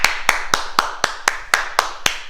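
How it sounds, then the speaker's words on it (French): A class in a children's ninja fitness session claps in unison after a set of squats, nine sharp, evenly spaced claps in a steady rhythm, close and fairly loud. "On s'applaudit,"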